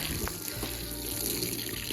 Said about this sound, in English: I'm gonna let these soak with warm water in them for a minute